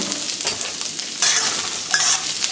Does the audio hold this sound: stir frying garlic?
yes